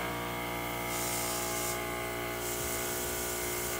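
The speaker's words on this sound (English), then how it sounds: "this is what the airbrush actually sounds like on." A makeup airbrush sprays in a steady, close hiss, with the spray swelling and easing in several short bursts over a constant background hum.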